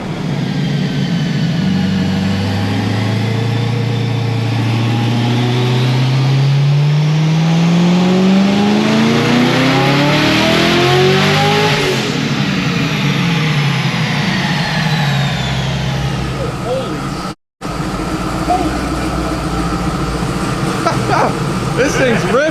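Twin-turbo LSX-swapped Porsche engine revs hard, climbing in a long sweeping pull to a peak then falling, loud and close, with a brief cut near the end and voices talking over it.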